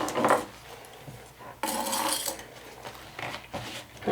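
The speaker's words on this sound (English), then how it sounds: "So I'll go ahead and top stitch 1/8 of an inch away from this folded edge." A home sewing machine topstitches along a folded fabric edge, its needle mechanism whirring and clattering in short bursts with pauses between runs, close and fairly loud with no talking.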